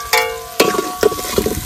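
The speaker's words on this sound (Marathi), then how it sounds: "गरम सगळा कांदा आपण टाकलेला आहे" Chopped onion fries in a hot pan for a village-style chicken curry, a low sizzle broken by a few sharp scraping stirs spaced about half a second apart.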